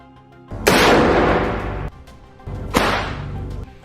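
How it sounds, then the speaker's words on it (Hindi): Two sharp, loud sniper rifle shots ring out about two seconds apart during an attack on Israeli soldiers, each with a hard crack and a long, rolling echo behind it. "स्नाइपर राइफल से उनके ऊपर ताबड़तोड़ गोलियां दाग देता है"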